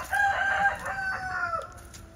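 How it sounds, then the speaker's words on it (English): A rooster, a Silkie and Barred Rock mix, crows once close by, a long wavering call over a wet outdoor background. "Here's one of my project roosters. He is a mix between a silky and a barred rock."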